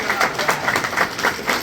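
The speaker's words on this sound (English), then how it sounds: "give him a round of applause?" A crowd applauds, a steady wash of clapping with rhythmic swells that holds throughout, fairly loud and close.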